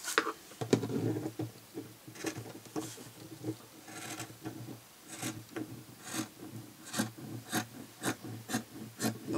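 Scissors cut a small amount off an overlong piece during a craft build of a gift-box display stand, giving a series of close, dry snips and rasping strokes in an irregular rhythm with no speech.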